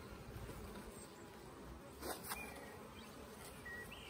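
Steady, even buzzing of many calm honey bees close by during a hive inspection, a dense hum with brief louder passes near the middle.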